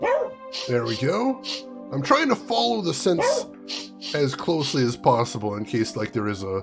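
A dog in a video game barks and yips repeatedly in short bursts, heard alongside someone talking continuously over it.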